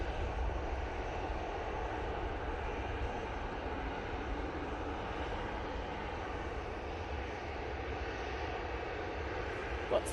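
An EasyJet airliner departing Manchester Airport for Madeira gives a steady, moderately distant engine roar that holds evenly throughout, with no talking.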